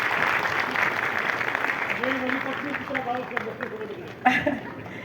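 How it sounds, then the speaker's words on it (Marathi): An audience at an award ceremony for children's theatre in Thane breaks into loud, sustained applause that gradually thins out, with some chatter and a voice speaking over the clapping. "त्यांच्यासाठी त्यांचा जोरदार टाळ्या झाल्या पाहिजेत"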